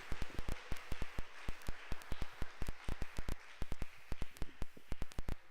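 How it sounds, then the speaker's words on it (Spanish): Scattered hand claps ring out from a church congregation during a Sunday morning Spanish-language service, sharp and irregular, repeating steadily with no voices over them. "¿Por qué no le da un aplauso al Señor en esta mañana?"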